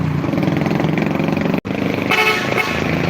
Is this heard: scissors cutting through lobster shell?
no